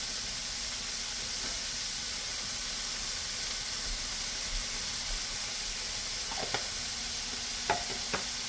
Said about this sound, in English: Onions are caramelizing nicely.